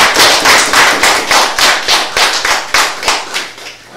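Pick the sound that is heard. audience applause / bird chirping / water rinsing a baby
audience applause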